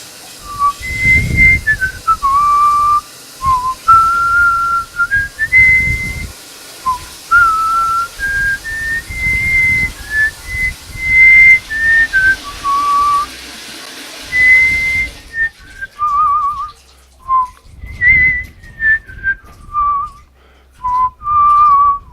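A person whistles a wandering, melodic tune in short phrases with brief pauses, clear and close, over faint background noise.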